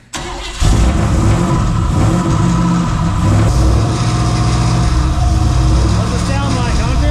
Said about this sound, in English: So we gotta hear what the exhaust sounds like.